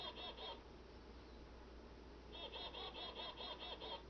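A pet bird clucks in a home, short rapid bursts of repeated clucking notes at the start and again in a longer run at the end, fairly close over low steady background hum.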